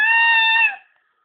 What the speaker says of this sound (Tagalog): Pusa yan eh.